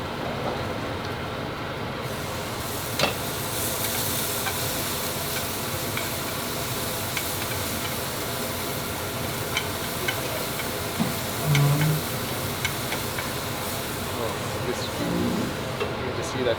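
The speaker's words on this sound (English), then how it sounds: "that sizzle." Vietnamese banh xeo sizzles loudly and steadily in a hot pan with onions and garlic, a dense, continuous crackle close by that lasts throughout, with occasional light clinks.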